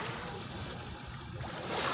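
Sea waves wash steadily at Balayan beach in Batangas, a continuous broadband surf rush with a slight swell toward the end, no voices.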